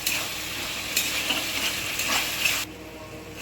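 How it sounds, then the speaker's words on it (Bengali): Paneer chilli mixture with red chilli sauce being stirred in a hot pan, a steady sizzle with scraping strokes of the spoon at a close, even level that cuts off sharply near the end. "এবারে মিশ্রণটিকে ভালোভাবে নাড়াচাড়া করতে হবে।"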